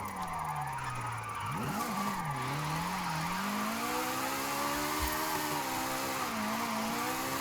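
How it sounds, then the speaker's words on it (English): A Toyota GR86 slides sideways through a drift in Forza Horizon 5, its engine note rising and falling in steady harmonic sweeps with a constant hiss of tyre noise underneath, loud and continuous throughout. "the car is just kind of sliding underneath me"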